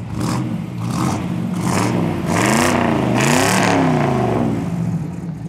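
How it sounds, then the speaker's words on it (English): A 1963 Chevrolet Impala with dual exhaust and a 4-speed manual revs its engine in several rising and falling pulls, a deep throaty burble swelling loud and close with no talking. "Fantastic sounding dual exhaust."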